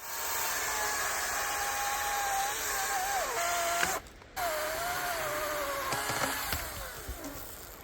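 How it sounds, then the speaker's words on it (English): A battery-powered chainsaw whines steadily as it cuts wood, its motor pitch dipping and recovering under load, with a brief pause midway before it resumes close and loud. "I think I've outgrown my chainsaw."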